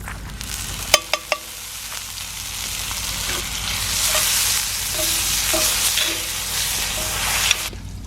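Asparagus and roasted garlic sizzle in hot bacon fat in a skillet over a campfire, a steady close frying hiss with a few sharp clinks of a utensil against the pan early on.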